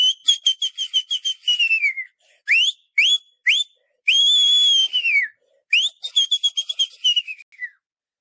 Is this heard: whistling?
yes